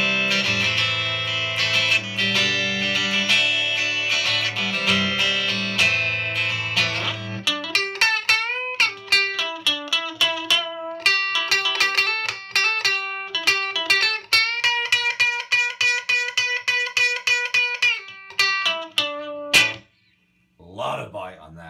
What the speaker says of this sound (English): when you go to the twang banger, this is where this starts sounding like a Telecaster.